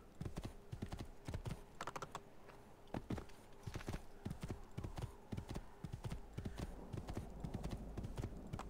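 Horse hooves clip-clopping in the video game Assassin's Creed II, a quick, irregular run of soft hoof taps, faint and close, with no talk.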